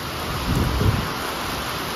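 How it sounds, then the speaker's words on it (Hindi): Heavy rain pours down with a dense, steady roar, and a low rumble of strong gusting wind swells briefly near the middle. "पवन के साथ बारिश आ रही पवन के साथ देखो"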